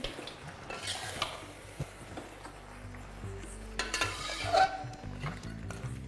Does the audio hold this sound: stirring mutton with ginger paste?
yes